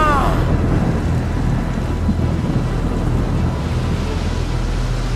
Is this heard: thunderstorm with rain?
yes